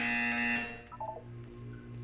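A buzzer in the video game Portal 2 during a wellness exercise. It sounds as a loud, sustained electronic tone for about half a second and then fades, followed by a few soft blips over a quiet hum.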